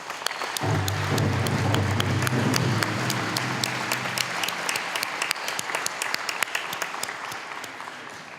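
Audience applause for the negotiation team at the Williams Treaties settlement agreement signing ceremony, a loud and dense wash of clapping that swells at the start, then thins into scattered claps as it tapers off.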